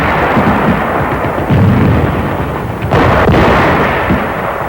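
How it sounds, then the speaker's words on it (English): Bangalore torpedoes and grenades blast in 1944 Pacific combat, heavy rumbling booms and dull explosive thuds rolling loud and distorted, with a couple of sharper bursts about midway. "it was a matter of blowing them apart with bangalores and grenades"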